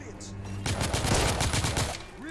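Gunfire from the video game The Order: 1886, a loud burst of rapid shots starting suddenly and rattling on for nearly two seconds, with game music underneath.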